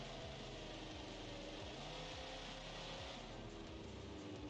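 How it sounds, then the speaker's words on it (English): A BeamNG.drive game car with a customizable Ford engine idles at low RPM, giving a loud, continuous, deep rumble with a steady pulsing throb throughout and no voices. "You can replicate the sound now by lowering the RPM on the Ford customizable engine."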